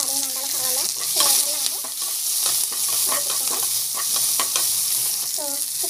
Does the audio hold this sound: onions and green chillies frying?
yes